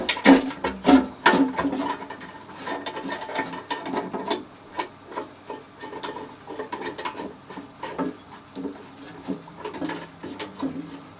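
An AMR water meter fitting is tightened by hand with a ratcheting tool, producing a series of close, sharp clicking bursts, loudest at the start and then settling into a quicker, quieter rhythmic clatter.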